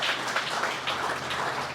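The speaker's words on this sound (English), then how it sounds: "A round of applause for those guys." A morning chamber of commerce business gathering breaks into audience applause, a steady wash of clapping from a crowd that holds at an even level throughout.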